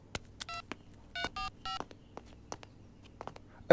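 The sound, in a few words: telephone being dialed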